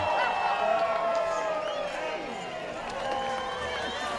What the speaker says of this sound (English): And a great crowd representing the team from Mexico